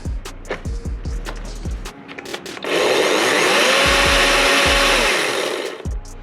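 A DeWalt cordless battery-powered pruner whirs up and runs steadily for several seconds close by, preceded and followed by a few sharp clicks and knocks from handling the tool outdoors near a crepe myrtle.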